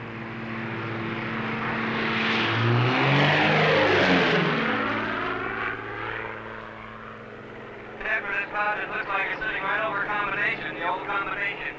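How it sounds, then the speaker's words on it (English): A weather research plane flies near a bank of cumulus clouds on a warm August afternoon, its engine droning steadily in a long swell that peaks and fades. Music plays throughout, with brighter tones rising near the end. "This plane, operating from a weather research base in Montana, is about to perform an experiment on the cloud"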